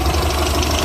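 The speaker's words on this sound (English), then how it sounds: "Now that I just flooded the engine, let's see if it'll start." A Pinzgauer engine with dual carburettors idles steadily right after starting, a dense continuous low rumble with no voices over it.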